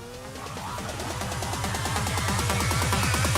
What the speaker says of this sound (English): It sounds like a straight race car.